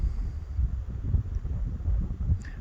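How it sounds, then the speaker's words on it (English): Strong wind at the Hilina Pali overlook in Hawaii Volcanoes National Park buffets the microphone in a steady low rumble with uneven gusts, and no one speaks. "since it's really windy, I'm going to go ahead and close"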